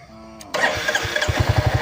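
A Royal Enfield Hunter 350 motorcycle, left in neutral, cranks and fires up, its single-cylinder engine settling into a close, steady rhythmic thump.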